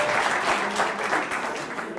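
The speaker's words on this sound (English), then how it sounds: "Can we just give a round of applause?" Applause from a meeting audience at an African Renaissance Unity gathering, a steady wash of mid-distance clapping that holds for two seconds at moderate level with no clear voices over it.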